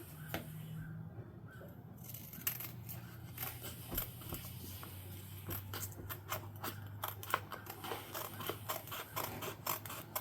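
Scissors snip along the outside edge of a glue book page decorated with washi tape, a run of short crisp cuts in an uneven rhythm close by, over a low steady hum.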